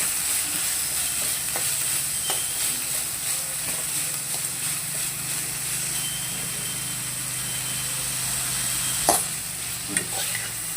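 Chopped onions sauté in a hot pan with a pinch of rock salt, a steady close sizzle and frying hiss running throughout, with occasional scrapes and clinks of a stirring spoon.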